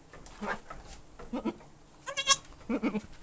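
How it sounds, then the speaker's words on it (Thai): Goat bleats from a farm setting, three short wavering calls spaced over a few seconds, moderately close with quiet background. "แพะครับ"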